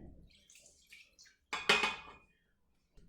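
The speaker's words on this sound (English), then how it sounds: "Okay, let me grab some water." Water is poured into an Instant Pot, a short splashing burst after a few soft clinks and handling sounds, then silence.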